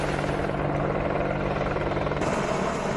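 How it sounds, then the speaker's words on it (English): An AH-64E Apache attack helicopter of the Indian Air Force flies with a loud, steady rotor and engine drone that holds without a break for the whole stretch, with no talking. "AH-64E Apache attack helicopters."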